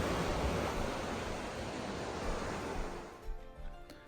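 Steady ocean surf washes in a broad, continuous roar, then tapers toward the end as the noise thins into quieter, uneven swells.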